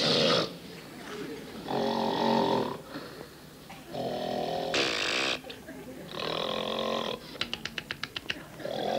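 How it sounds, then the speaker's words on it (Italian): A person snores in a series of rough, rasping breaths, about five separate bursts spaced a second or two apart, each one loud and close, followed by a rapid fluttering rattle at the end. "chi ha esperienza di persone che russano sa che farli smettere è una vittoria provvisoria e temporanea"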